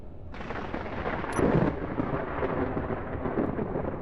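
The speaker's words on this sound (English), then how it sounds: "Oh no. Electric storm." Thunder from an electric storm in a video game rolls as a deep, sustained rumble with a louder swell partway through, steady and continuous with no talking.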